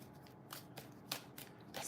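A deck of tarot cards being shuffled by hand in several quick riffling bursts, close and fairly quiet, with no talk over them.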